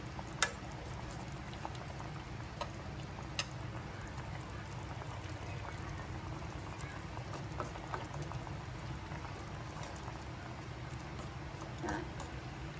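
Mackerel stewing with pickled mustard greens and tomato in a pot, a soft steady bubbling simmer with occasional small pops, fairly quiet and with no talking.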